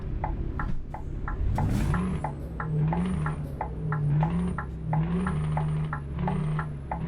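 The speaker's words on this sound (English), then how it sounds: "I absolutely love the sound of that engine." A truck engine in Euro Truck Simulator 2 idles and revs with a low, wavering drone, accompanied by regular sharp clicking ticks, sounding synthetic and game-like.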